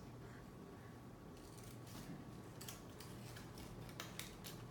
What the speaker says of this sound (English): Now you're going to want to cut like this